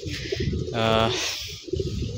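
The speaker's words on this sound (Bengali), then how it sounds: "আমার 10 নম্বর কবুতর মাত্র আসলো।" A homing pigeon arrives back at its loft, a short coo rising briefly amid nearby talk and background noise.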